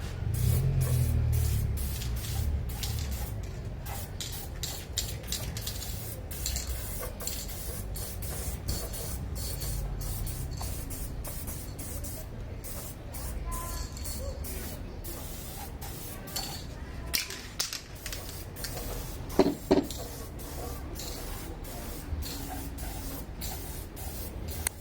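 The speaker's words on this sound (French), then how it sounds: "En espérant qu'on ait assez de bombes, parce que j'ai prévu qu'une seule bombe." A spray paint can lays gloss black onto a car air box, giving steady hissing bursts with brief gaps throughout, close and fairly loud, with a few clicks of the nozzle.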